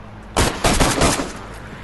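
Two short bursts of gunfire ring out in the video game DayZ, a loud close volley followed by a second rapid string of shots that fades into a lingering tail.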